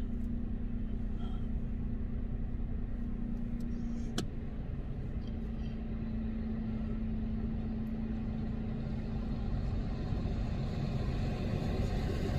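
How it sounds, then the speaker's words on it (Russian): Bus passing on a road, a low continuous engine rumble that holds steady throughout with a brief sharp click near the start. "Ну давай, бус, едь уже."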